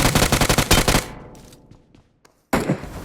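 Rapid automatic gunfire in the PUBG Mobile game knocking down an enemy, a dense burst of shots that trails off into near silence before another loud burst starts abruptly.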